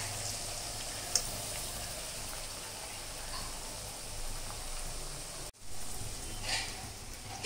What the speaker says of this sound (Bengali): এখন টমেটোটা দিয়ে দেবো, গ্রেট করে রেখেছিলাম টমেটোটা